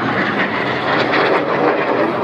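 Red Arrows synchro pair jets flying past at an air display: a steady, loud roaring jet rush with a broad, continuous noise that swells slightly as they pass, with no talk.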